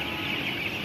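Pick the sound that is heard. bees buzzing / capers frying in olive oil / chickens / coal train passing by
chickens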